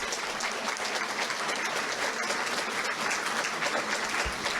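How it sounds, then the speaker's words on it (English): A crowd at an environmental candidates' debate gives a round of applause, a continuous, even patter of many hands clapping that stays fairly quiet and steady throughout without any voices. "let's have a round of applause for the candidates"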